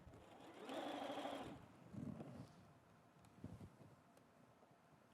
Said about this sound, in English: Oh, it's sewing.